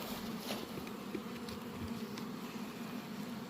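Honey bees buzz steadily around beehives during a spring gallberry and palmetto honey flow, a continuous low drone with faint passing individual bees and no talking.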